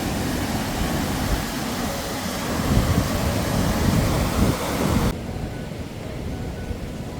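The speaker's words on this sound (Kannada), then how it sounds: "ಹಳ್ಳ ಮೈದುಂಬಿ ಹರಿಯುತ್ತಿದೆ" Tattihalla stream in Haliyal, swollen after days of heavy rain, roars as a broad continuous rush of floodwater, loud and steady, dropping slightly in level near the end.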